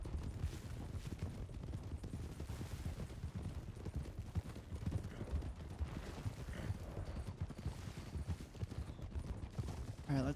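Horses' hooves clip-clop steadily in a video game, a dense rhythmic patter of hoofbeats mixed with gunfire-like cracks and bustle, continuous and fairly loud throughout.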